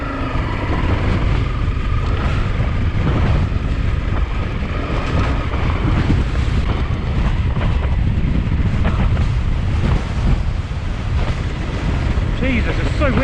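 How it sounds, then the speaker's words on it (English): Strong wind roars and buffets the microphone continuously on a motorcycle trail ride in the UK, loud and gusty throughout, with faint rumbling movement underneath. "Jesus, it's so windy."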